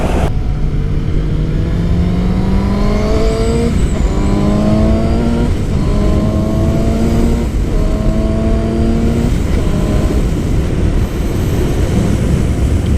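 A BMW motorcycle accelerates hard through several gears, each rising engine whine breaking off at a shift before climbing again, loud and steady throughout with no talking.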